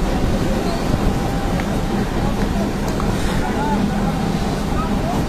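A trawler pushing through rough waves in the Sundarbans on the way to Hiron Point, a steady loud rush of engine, wind and water that fills the whole stretch.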